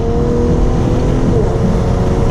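Exhaust of an Infiniti Q50 with an EcuTek tune, a loud, steady engine drone holding close by without pause.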